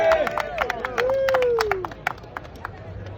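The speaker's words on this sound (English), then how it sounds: "Let's clap it up for Andy." A small crowd claps for Andy at a sports card box break at the 2023 National in Chicago, with scattered, uneven hand claps mixed under loud nearby voices and chatter.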